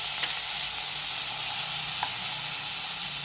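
Fish frying in a pan at home gives a steady, close, even sizzle with faint crackles and no pauses.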